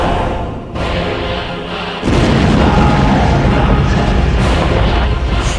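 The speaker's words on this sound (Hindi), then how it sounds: "जब रूस को क्राइमिया से जोड़ने वाले पुल पर बहुत बड़ा धमाका होता है।" A huge explosion on the bridge linking Crimea to Russia hits as a sudden loud, deep boom, followed by a sustained roaring rumble that stays heavy to the end.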